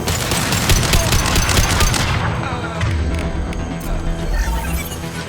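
Heavy weapon firing in Mass Effect 2: a loud, rapid burst of booming shots for about two seconds, then a lower rolling rumble with scattered thuds as the fight continues.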